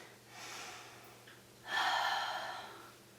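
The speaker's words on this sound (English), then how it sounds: "Deep breaths." Deep, audible breaths taken while holding a lunge stretch in a lower-body workout, two slow airy exhales with a brief pause between, close and fairly soft.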